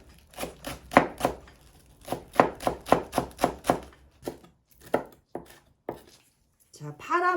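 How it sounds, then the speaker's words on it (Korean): Knife chopping the green tops of a Korean green onion (daepa) into fine slices on a cutting board, a quick run of crisp, evenly paced taps followed by a few scattered cuts, close and clear, with a voice speaking near the end. "파란 부분만 그냥 쫑쫑 썰어서 준비를 해서"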